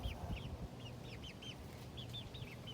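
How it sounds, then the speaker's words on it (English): Backyard chickens raised from chicks clucking softly outdoors, a steady run of short, faint, repeated calls over low background rumble. "since we got these chickens as little babies, I've grown to really like them"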